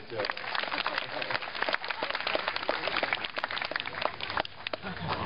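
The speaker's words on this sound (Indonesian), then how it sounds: "tepuk tangan untuk Mas Jo" Audience applause for a guest named Jo at a Cak Nun gathering, a steady dense patter of many hands clapping that carries on throughout at moderate loudness.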